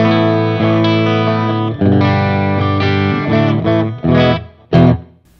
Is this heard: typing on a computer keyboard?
no